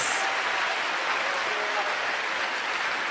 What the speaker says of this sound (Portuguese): Então aplauda ele com todas as suas forças.